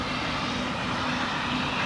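A cargo aircraft's engine drones at an airport stand as steps are moved away before pushback, a loud, steady broadband roar with a faint low hum and no voices.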